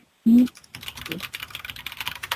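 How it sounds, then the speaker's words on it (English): Fingers type rapidly on a computer keyboard during a talk radio show, a close, continuous clatter of uneven keystrokes that follows a short loud tone burst. "I can hear you typing, LJ."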